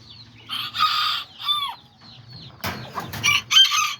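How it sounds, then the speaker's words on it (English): A small hen and a young rooster of the Azteca breed cluck and make short, squawky calls close by, in loud bursts with brief pauses, ending with a rougher, scratchy outburst. "I got this little hen right here, and then the little rooster."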